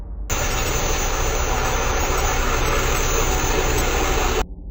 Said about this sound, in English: This footage was captured by a member of a life flight crew during the takeoff of a medical helicopter